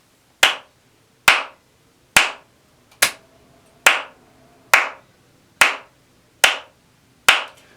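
Hand claps ring out one at a time at an even quarter-note pulse, nine sharp, close claps with clean decays into silence between them.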